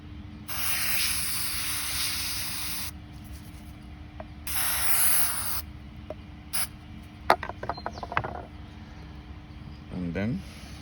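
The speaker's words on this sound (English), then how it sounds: "let me spray some glue" Glue sprays from an aerosol can in two loud hissing bursts, each lasting a couple of seconds, followed by scattered clicks and handling noises at a bird feeder build.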